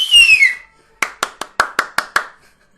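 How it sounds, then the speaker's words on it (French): At 8 pm a whistle sounds outside, then seven sharp, evenly spaced claps follow, distinct and fairly close, ringing briefly against quiet surroundings. "J'adore les applaudissements."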